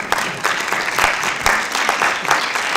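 An audience at a presentation on a university and film-archive collaboration applauds a research team, giving steady, dense clapping that holds at a moderate, even level throughout.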